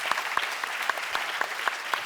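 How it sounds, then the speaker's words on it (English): Audience applause after a panel discussion on changing the fashion industry, a dense steady patter of many hands clapping at moderate distance, continuous across the clip without voices. "Let's have a nice round of applause for them."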